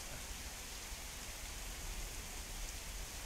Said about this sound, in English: It would look much better if it wasn't raining